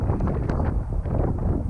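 Strong wind blows across a lake during a windy morning of bass fishing, a steady, loud low roar buffeting the microphone with no pauses and no other clear sounds.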